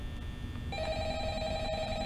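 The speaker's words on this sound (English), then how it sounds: "How do I answer the phone?" A telephone rings in the Five Nights at Freddy's video game, a steady electronic ring that starts partway through and carries on loud and close over a low background hum.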